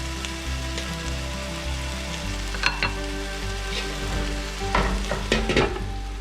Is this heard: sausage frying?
yes